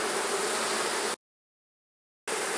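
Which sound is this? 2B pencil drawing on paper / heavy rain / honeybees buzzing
honeybees buzzing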